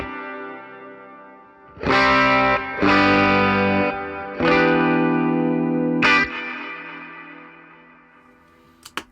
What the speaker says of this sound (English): my first reverb, which is this MXR M300 Reverb. I use it on this Epic setting.